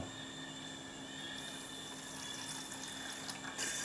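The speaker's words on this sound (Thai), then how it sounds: "หลังจากนั้นก็เติมน้ำเปล่าครับผม 125 ml" Plain water poured into a pot holding 80 g of sugar for a seafood dipping sauce, a steady close hiss of running liquid lasting several seconds, brightening near the end, with no talk.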